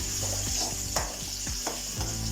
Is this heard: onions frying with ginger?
yes